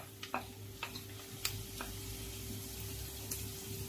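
Chicken pieces go into a pan of frying onion and garlic, giving a soft, continuous sizzle punctuated by a few sharp clicks and taps of a utensil against the pan.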